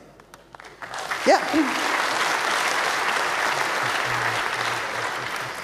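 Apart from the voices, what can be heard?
audience applause for hackerspace lab coats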